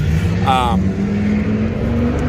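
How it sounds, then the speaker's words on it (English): Car with a loud exhaust passing close by outdoors, a steady low rumble that holds and slowly shifts pitch as it goes past. "Sometimes people just have to show off their exhaust."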